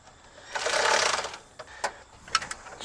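A power driver runs a self-tapping screw in to mount an oil catch can in the engine bay of a big block Ford, giving one sustained whirring burst followed by a few short, sharp clicks and taps close by.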